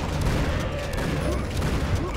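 Dense gunfire from the video game Painkiller, a continuous loud roar of overlapping shots and booms with no clear gaps, filling the whole stretch.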